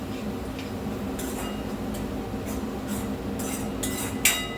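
A spoon scrapes and taps in a pan as onions are stirred with ginger-garlic paste for pav bhaji, giving a series of light, irregular clinks over a soft steady sizzle, with one sharper clink near the end.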